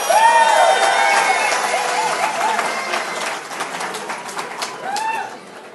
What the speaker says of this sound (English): I also like to hear a loud cheer for the two companies that have been on this list for all 8 years